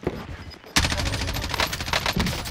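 Gunfire in the Warzone combat game starts abruptly after a moment of quieter noise and turns into a dense, loud, continuous burst of rapid shots at close range.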